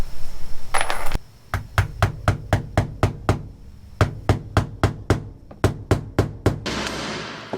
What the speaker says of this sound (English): Just gotta nail that in.